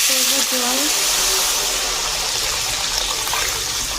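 Water is poured into a pot of fish curry with taro, giving a loud rushing gush over the simmering mixture for several seconds, with a brief voice at the start.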